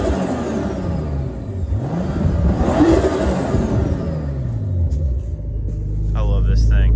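A turbocharged BMW E46 330ci runs without a downpipe, giving a loud, rough rumble that swells as it revs and settles back, with a brief high whine near the end.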